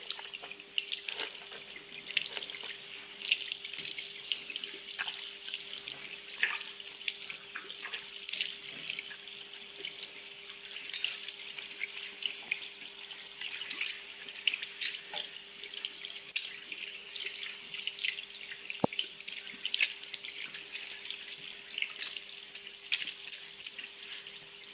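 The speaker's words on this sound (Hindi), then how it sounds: "हमने वज़ू कर लिया, मगर बहुत ठंडा पानी था, बहुत ज़्यादा ठंडा।" Cold tap water runs steadily into a sink during ablution (wudu) washing, a continuous splashing stream with small drips and clinks, close and fairly quiet, no voices.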